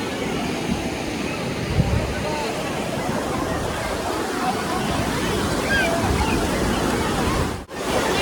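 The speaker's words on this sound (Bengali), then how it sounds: "এই যে ছোট ছোট ঢেউ আসছে" Small sea waves break and wash steadily on Old Digha beach, a continuous, fairly loud surf roar with no clear gaps, and a brief dip near the end.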